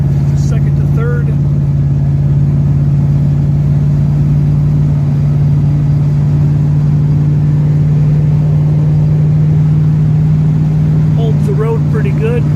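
A 1938 Chevrolet Master Deluxe with a hole in one muffler drones steadily from inside the cabin, a loud, constant low engine hum and road noise, with faint talking at the start and end.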